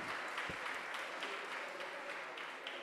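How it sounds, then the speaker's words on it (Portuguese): Applause fills a legislative chamber during an official session, a faint, distant, continuous patter of clapping hands. It stays at an even low level for the whole stretch with no speech. "a vocês, a nossa salva de palmas"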